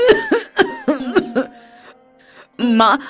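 A woman fakes a cough with a series of loud, forced hacks in quick bursts, a short pause, then a final harsh coughing fit, close and clear.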